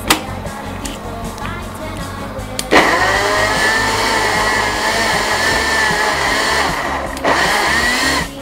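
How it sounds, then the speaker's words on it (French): A blender whirs loudly and steadily, mixing sweet potato purée with orange juice; a brief first burst gives way to a sustained motor roar from close by, with no talking. "On va mettre un peu de jus d'orange. On va mixer et on ajoutera du jus en fonction de la texture souhaitée."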